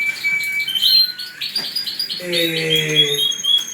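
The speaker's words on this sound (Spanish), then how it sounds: "Este pájaro que tiene el timbre, que ahora escucharéis" A caged songbird sings close by in bright chirps, trills and sustained whistled notes, with a short rustle or knock partway through.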